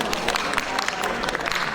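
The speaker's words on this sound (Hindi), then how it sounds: "तालियों के साथ अभिनंदन।" An audience at a Hindi literary award ceremony claps in a dense, steady patter of many hands, a short close burst of applause.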